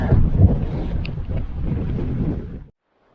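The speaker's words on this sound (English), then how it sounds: "Let me get out of the wind and explain more." Strong wind roars across a hilltop on Santorini near Ancient Thera, a loud, steady buffeting rumble striking the microphone for under three seconds, then cutting off abruptly into near silence.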